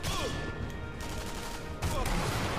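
Rifle fire and battle noise from Sniper Elite V2, a steady dense wash of shots with a sharper burst near the end, under a busy game soundtrack.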